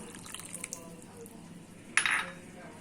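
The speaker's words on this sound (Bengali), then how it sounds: "আমি এখানে এক কাপ পানি দিয়ে দেব" A cup of water is poured into a cooking pan while making pabda fish curry, a short close splash near the end after faint kitchen clinks.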